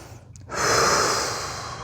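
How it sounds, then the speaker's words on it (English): A person lets out one long, audible breath close to the microphone during a recovery stretch, a breathy rush that swells and then slowly fades. "Nice exhale."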